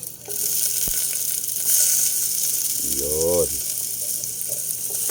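Onions dropped into a hot pot for a simple pork soup crackle into a loud, continuous sizzle that persists throughout, with a short spoken word partway through.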